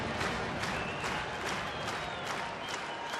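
Baseball stadium crowd of more than 33,000 at a Milwaukee–Colorado game, standing and applauding with steady dense clapping and cheering, a broad wash of sound from all around, no talk.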